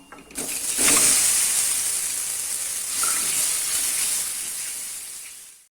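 Boiled eggs tossed with salt, chili powder and turmeric in hot oil in a pan set off a loud, steady sizzling hiss that swells at the start, holds for several seconds, then cuts off abruptly.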